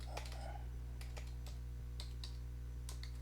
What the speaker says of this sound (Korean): 자, 이렇게 제가 타이핑을 했습니다.